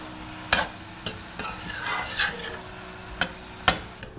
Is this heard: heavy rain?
no